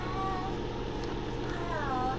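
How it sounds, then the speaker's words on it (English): A pet cat meows a couple of times indoors, short rising cries over a steady low hum and background noise. "And my kitty cat says yes."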